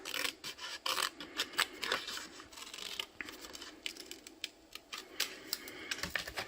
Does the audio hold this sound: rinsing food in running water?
no